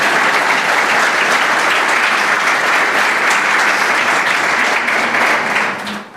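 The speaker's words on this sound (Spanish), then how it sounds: "Por favor, un aplauso a las personas que nos acompañan." Loud, sustained clapping from the audience at a hydrogen energy conference panel in Chile, a full, even roar of hands that holds steady and then tapers off quickly at the end.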